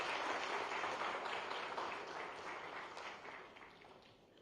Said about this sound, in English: Please give sir a round of applause.